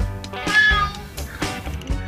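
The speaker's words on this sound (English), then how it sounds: "Cat." A house cat meows several times up close, loud, drawn-out cries in an uneven rhythm with short gaps between them.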